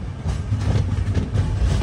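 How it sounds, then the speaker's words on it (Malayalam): Island Express train pulling into Eraniel railway station, a loud, steady rumble with rhythmic wheel clatter heard close up from aboard, no voices. "ട്രെയിൻ ഇപ്പോൾ ഇരണിയൽ റെയിൽവേ സ്റ്റേഷനിലേക്ക് എത്തിയിരിക്കുകയാണ്."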